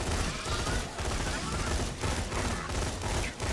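Sentry gun turret in Borderlands 2 firing rapidly, a dense, continuous stream of gunfire with steady rhythm and occasional brief gaps, loud and close, with game effects layered over it.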